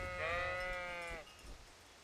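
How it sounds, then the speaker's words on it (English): A single sheep in the video game Kingdom Come Deliverance lets out one clear, wavering bleat lasting about a second, close and alone against a quiet background. "Hey, sheep."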